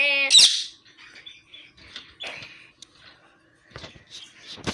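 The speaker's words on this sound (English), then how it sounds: "this is the bird" A bird gives a sharp, loud squawking call at the start, followed by scattered fainter chirps and rustling noises in a quiet setting.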